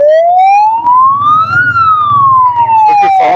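A police car siren wails loudly and close by in one long rising then falling sweep, with traffic rumble beneath, during a traffic police operation checking drivers for violations.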